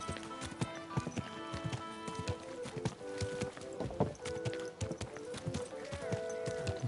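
Horse hooves clip-clop in Kingdom Come: Deliverance II, a run of crisp, close hoofbeats in uneven rhythm, set against a bed of layered game music and ambient tones.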